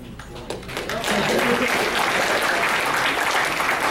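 Audience applause at a Dragon Con fan convention panel on hacking, a dense steady clatter of many hands that swells after the first second and holds loud to the end, with a faint voice at the start.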